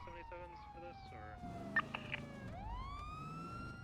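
Police car siren in GTA V NoPixel roleplay, a steady wail that cuts out and then restarts with a rising sweep, with radio-style voices talking underneath.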